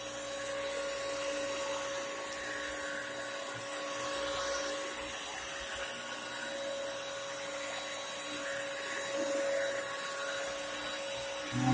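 A Bissell Crosswave Premier wet dry vacuum runs on carpet, a steady high-pitched motor whine and airy suction hum holding level throughout with no talk.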